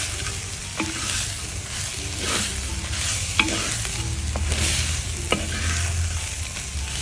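A masala with onion and tomato fries in a pan with a steady close sizzle, while a spoon stirs and scrapes in a loose rhythm, with occasional sharper taps against the metal.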